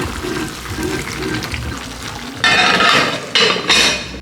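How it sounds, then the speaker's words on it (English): Meat boiling in its own gravy in a pot on the stove while being stirred for Jamaican cooking, a steady bubbling, scraping kitchen wash with louder bursts of stirring and clatter toward the end, close up. "it's got its own gravy boiling up there, so you just want to stir it so that the meat doesn't stick"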